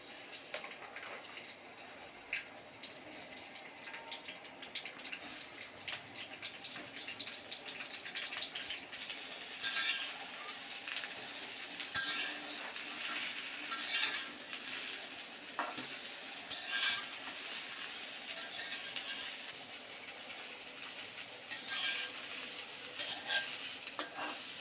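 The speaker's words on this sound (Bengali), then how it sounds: "প্রথমে ফুলকপিগুলো মিডিয়াম আঁচে একটু ভেজে নিব।" Cauliflower florets frying in oil in a wok over medium heat, a steady sizzle with clinks and scrapes of stirring, growing louder and busier partway through, with no talk.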